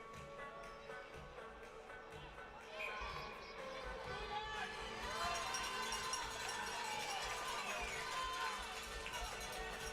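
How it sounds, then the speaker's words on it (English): Fans cheering at a U13 junior hockey final in an arena, a sustained crowd roar with children's voices and shouts that swells louder midway and stays under commentary. "Blizzard fans making some noise."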